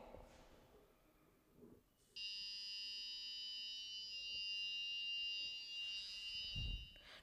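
A steady, piercing electronic buzzer tone from an Arduino Uno LPG gas sensor alarm starts about two seconds in and holds continuously, loud and close, over quiet room noise.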